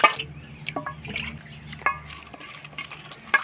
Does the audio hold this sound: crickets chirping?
no